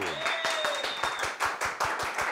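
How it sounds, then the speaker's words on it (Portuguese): Studio audience applause on a Brazilian television show, rhythmic, fairly loud clapping in a steady beat, with a brief whistle-like tone sliding over the start. "Receba o aplauso do nosso auditório."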